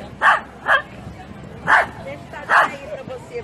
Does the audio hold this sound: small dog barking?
yes